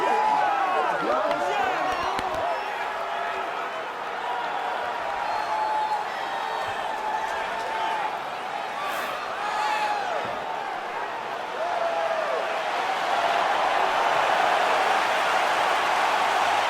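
Arena crowd noise from a UFC 5 video game bout between Brian Ortega and Charles Jourdain, a steady roar with high shrieks and whoops from women rising over it, continuous throughout.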